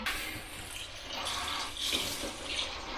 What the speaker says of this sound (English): now we are going to chuck in enough water in there to cover this all